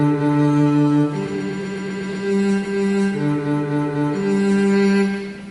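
NoteFlight plays back a student's bass line of root and fifth notes on the computer. The sustained synthetic tones change pitch roughly once a second in a plain, even sequence, with no voices.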